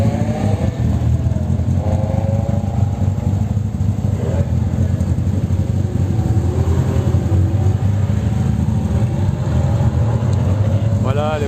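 A classic Alfa Romeo engine runs steadily at the Magny-Cours circuit during a classic car event, a continuous low, throaty drone held at an even pitch, with faint voices in the background.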